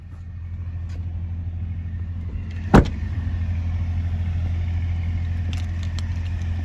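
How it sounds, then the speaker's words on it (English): A 2021 GMC Canyon AT4 runs at a steady low idle after a remote start, with one brief sharp click or thump partway through and the engine hum continuing evenly afterward. "Just hit the lock button twice, hold down the remote start button. Vehicle fires right up."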